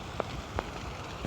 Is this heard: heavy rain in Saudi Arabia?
yes